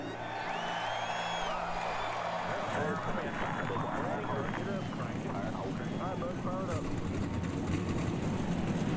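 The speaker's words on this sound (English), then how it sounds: "Let's go on track and fire these cars up." Stock car engines in the NASCAR Racing 2003 video game roar together at a Denver race, a steady loud drone with rising and falling revs, under a voice.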